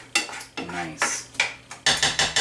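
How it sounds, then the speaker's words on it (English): Onions cooking down in a pan with salt and pepper, stirred with a utensil that scrapes and clinks against the cookware in repeated strokes, close and fairly loud, with no voices. "while those onions continue to cook down"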